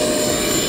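An E-flite Viper RC electric ducted-fan jet takes off on a short run, its fan giving a loud, steady, high-pitched whine with rushing air, close and constant throughout, with no voices.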